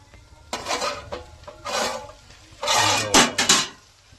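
A lid comes off a covered pan of aloo bhindi, potato and okra curry, followed by scraping, clattering spoon strokes stirring the vegetables, in several loud close bursts with brief pauses between them.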